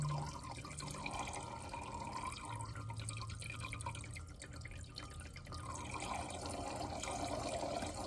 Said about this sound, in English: add a little bit more water to